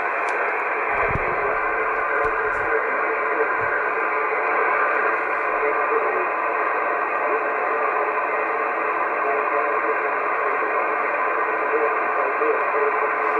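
A 40-meter amateur SSB station comes through on a commercial receiver as a continuous hissy, band-limited radio signal with muffled voice-like modulation under steady static, no clear pauses throughout.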